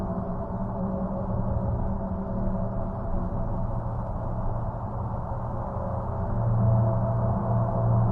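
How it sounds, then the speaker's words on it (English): Voyager spacecraft recording of Jupiter's magnetosphere converted to sound, a steady low droning hum with wavering tones that swell slightly near the end, no voices. "that noise is apparently made by magnetically charged particles being blasted out into space"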